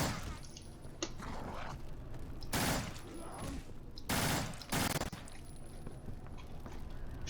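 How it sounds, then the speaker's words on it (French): Bursts of gunfire in the zombie shooter game No More Room in Hell, rapid volleys of shots fired in several sharp clusters over continuous background game noise. "Je vais claquer un peu toutes mes munitions sur eux."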